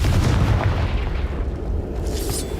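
Spell blast from the Confringo fire curse in Hogwarts Legacy, a heavy booming explosion with deep rumbling low end and crackling burst, loud and sustained for a couple of seconds before a sharp hissing flare at the end.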